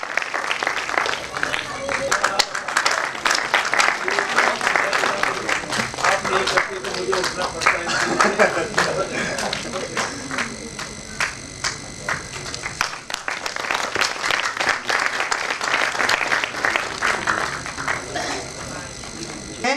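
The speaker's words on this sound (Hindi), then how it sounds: "तालियां पंत जी के सम्मान में आप बजाएं और उनका सम्मान।" An audience at a Dehradun gathering claps to honour a guest, with sustained, lively applause lasting about twenty seconds, busy and uneven, with crowd voices mixed in and a few sharp claps near the microphone.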